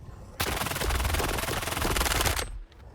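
A Fora-221 rifle in STALKER 2 fires armor-piercing rounds in one loud, rapid, sustained automatic burst of about two seconds, then cuts off abruptly.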